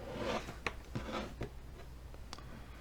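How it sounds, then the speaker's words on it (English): A razor blade slicing through material at an angle during restoration of a 1938 Montgomery Ward Airline Teledial radio, a few short, close scraping cuts with brief pauses between strokes, fairly quiet. "Use the razor, cut it in the angle."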